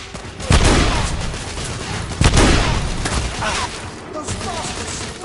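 In The Order 1886, gunfire crashes out in a loud volley of several heavy shots and booms, with rattling bursts between them, in the middle of a combat scene.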